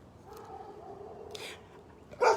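A dog gives a short, sharp bark near the end, preceded by faint yips and whimpers over quiet background noise.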